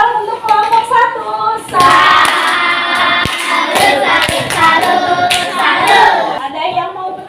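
Classroom students clap together for group 1, a burst of rapid, overlapping applause that swells after a brief start and keeps going loudly with a few voices mixed in.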